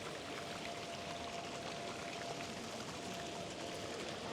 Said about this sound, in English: The fountain's continual water flow is entirely recycled